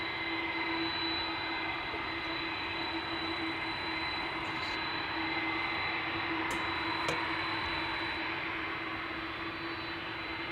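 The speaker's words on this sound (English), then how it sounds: "You can hear the engines already." Airplane jet engines roar steadily at Amsterdam Schiphol Airport, a loud, continuous broadband rumble with a sustained whine close by during departures, and no talking over it.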